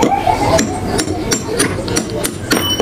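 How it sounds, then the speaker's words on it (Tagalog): A hammer knocks the shaft out of an electric fan rotor, giving a close, loud series of sharp metallic strikes at a steady pace of about two per second. "Tapos paluin lang po yan ng martilyo."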